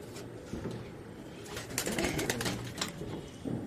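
Pigeons coo on a rooftop terrace, soft repeated throaty calls rising and falling close by, with a louder burst in the middle and no voices.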